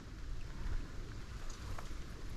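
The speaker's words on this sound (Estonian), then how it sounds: "Vihm hakkas jälle sadama" Rain falls on a fishing boat out on the water, a faint, steady hiss and patter mixed with soft wind noise, with no voices.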